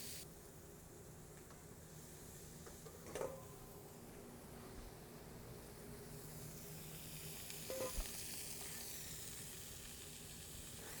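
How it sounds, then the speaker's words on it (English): Thin strips of Philly cheesesteak meat sear in a hot pan, a faint steady sizzle and hiss with two brief bursts of stirring or scraping, quiet and close with no talking. "just kind of let it sit, get a good sear, and then we'll toss it around"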